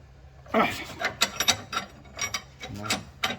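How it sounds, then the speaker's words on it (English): Metal wrenches click and ratchet in short, uneven bursts while tightening a tie rod on a 2005-2009 S197 Mustang, close but fairly quiet. "you put a wrench here or here and you get extra torque"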